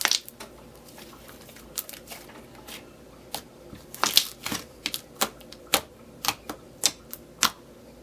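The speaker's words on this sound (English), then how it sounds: "super duper stretchy, clicky, and it makes really nice swirls." Glossy, thick cinnamon spread slime is stretched and squished, giving a run of sharp, close clicks and pops that grow more regular toward the end, with no talk.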